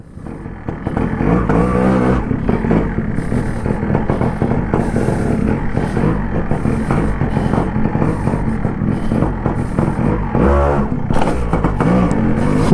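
A restored Yamaha RX135 two-stroke motorcycle revving hard up close, a loud, raspy engine note rising and falling in repeated throttle blips with some mechanical clatter and no voices.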